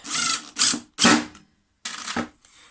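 Heavy wood screws driven with a power driver to fix a lathe faceplate onto a pine bowl blank; four short whirring bursts with brief pauses between them, close and fairly loud.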